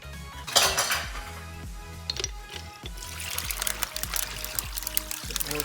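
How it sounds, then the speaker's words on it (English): Cold water poured into a tub for brining a turkey, a steady splash running under clattering pots, pans and utensils nearby, close and moderately loud throughout. "Adding cold water to the brim."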